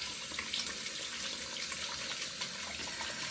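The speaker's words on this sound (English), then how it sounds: "I'm just gonna wash my hands quickly." Water runs steadily from a tap into a sink during handwashing, a close, even splashing rush with no pauses.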